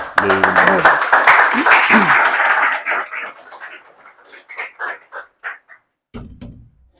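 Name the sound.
audience applause at a lecture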